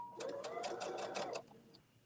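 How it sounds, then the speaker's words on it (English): A sewing machine runs briefly, stitching two lined-up fabric pieces with a fast, even mechanical whirr and needle rhythm that stops abruptly, heard up close. "So I'm going to line the 2 pieces up and stitch."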